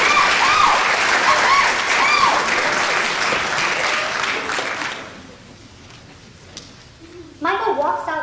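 Audience applause at a college speech night, loud and sustained clapping for about five seconds before fading to quiet room tone, then a voice begins talking near the end.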